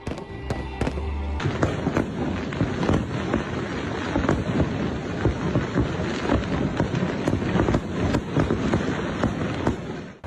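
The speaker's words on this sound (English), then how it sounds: "The Colombo night sky was lit up with a glamorous fireworks display from the Lotus Tower." A New Year fireworks display launched from the Lotus Tower in Colombo fills the night with dense, continuous crackling and booming bursts, heard from a distance over wind noise.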